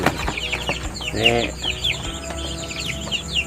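Chickens and Muscovy ducks in a backyard pen cluck and call close by, with one louder squawk in the middle and a steady chatter of birds throughout.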